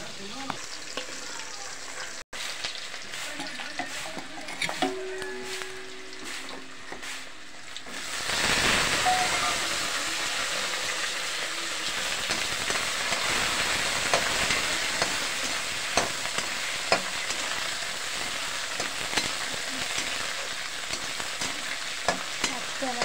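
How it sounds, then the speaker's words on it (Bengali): Batch of fish sizzling in a pan of hot oil, a dense crackling hiss that steps up louder about a third of the way in and stays steady, with scattered sharp pops and faint kitchen clatter, no talking. "এই দেখো মাছগুলো এখনো ভাজাই হয়নি"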